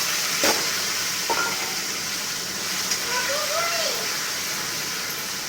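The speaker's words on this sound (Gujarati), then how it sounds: "આપણે હિંગ નાખી હવે ટમાટર નાખી દઈશું." Tomatoes go into hot oil seasoned with asafoetida, giving a steady broad frying sizzle with soft stirring clatter throughout, plus faint tonal sounds in the background.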